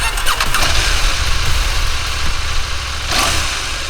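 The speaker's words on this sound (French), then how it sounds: "J'ai jamais vu une moto démarrer comme ça." A KTM 790 Adventure R motorcycle engine cranking and catching, with a brief whirring starter burst, then a loud, close, rough idle with a blip of revs near the end.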